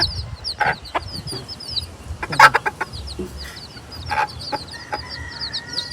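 Chickens cluck close by, with soft bursts and scattered clucks, a few louder calls mixed in, and faint chirping from baby chicks in the background.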